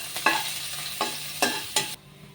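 Green chilli, ginger and garlic fry in hot oil. A close, bright sizzle is punctuated by four quick stirring scrapes before the sound cuts off abruptly near the end.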